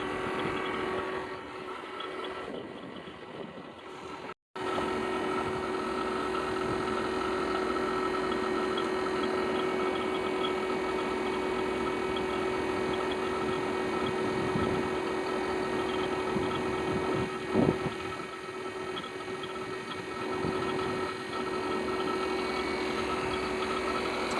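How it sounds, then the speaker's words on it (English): A vacuum pump runs on a Trane rooftop HVAC unit during leak repair, giving a continuous, even mechanical drone with a steady tonal hum, briefly cutting out near the start and then running on unchanged. "I'm gonna shut off my vacuum pump."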